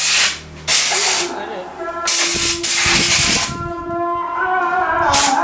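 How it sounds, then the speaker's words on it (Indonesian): Air compressor blasts air to clean the CVT parts and starter of a Yamaha Mio Soul scooter, loud hissing bursts that start and stop, with a lower mechanical hum under them. "Baik, kita semprot semuanya pakai kompresor ya teman-teman."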